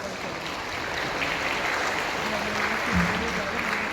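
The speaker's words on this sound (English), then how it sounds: "So a big clap for yourselves." Steady applause from a group of students at a school youth parliament fills the whole stretch, a dense even patter of many hands clapping at moderate loudness.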